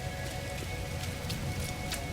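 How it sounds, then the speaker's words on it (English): Rain falling in the video game No Man's Sky, a soft steady patter of drops spattering on surfaces, moderately close and unbroken, with no voices. "Looks like it's, yeah, bio something or other rain."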